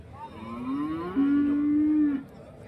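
Cow at a cattle market lowing once in a long, drawn-out moo that rises and holds steady before fading, fairly close over low background crowd noise.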